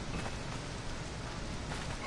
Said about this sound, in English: Where up here, it's rain.